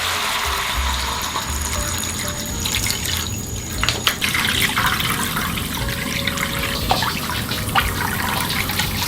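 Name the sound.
pouring bottled water onto stir-fried beef in a pot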